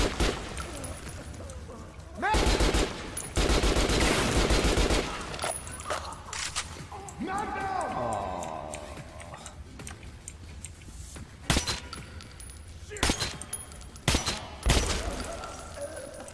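An AK rifle fires in bursts in the video game Metro: Last Light, loud rapid automatic fire with sharp single cracks and short volleys scattered among quieter metallic game sounds.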